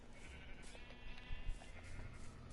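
Sheep in the video game Minecraft bleat in a few short, soft calls over a quiet, low background hum.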